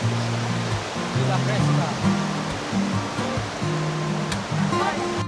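River water rushes steadily on a rainy Palawan farm outing, a broad continuous wash under a voice, with a low droning hum pulsing beneath.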